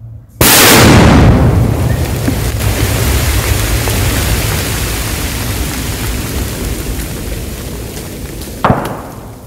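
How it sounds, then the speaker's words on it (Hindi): A loud sudden blast opens into a long rumbling roar that slowly fades, followed by a sharper crack near the end. "तो सुना आपने ये धमाका,"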